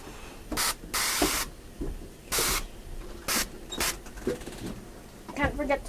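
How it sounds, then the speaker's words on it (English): Cooking spray hisses onto metal egg rings in a home kitchen, several short sharp bursts of aerosol spray at irregular intervals, close and loud, with people talking in between. "Can't forget to spray the egg rings."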